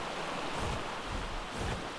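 Steady broadband rush of falling water from a waterfall in Ark Survival Evolved on the Ragnarok map, a continuous even roar with no talk over it.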